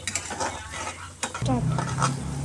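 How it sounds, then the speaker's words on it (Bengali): Spices sizzle and fry in a pan while a spatula stirs and scrapes them, close, quick strokes with a steady frying hiss that grows louder partway through. "এখন আমি 1 মিনিট ভালো করে নেড়েচেড়ে নেব।"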